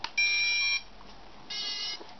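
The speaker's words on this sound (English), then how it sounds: "hold the red button down on the radio control transmitter, power it up, gives two beeps." A radio control transmitter for an MJX Bugs 3 quadcopter powers up with two separate electronic beeps, each a short steady tone, fairly quiet and close with no talking.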